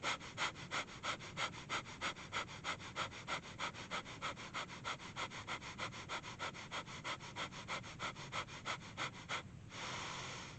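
Kundalini yoga Breath of Fire: rapid, forceful nasal exhalations pulse in a steady, fast rhythm for about nine seconds, close and loud, then break into one longer inhale.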